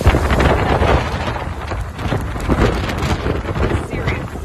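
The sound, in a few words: hurricane wind during Hurricane Laura landfall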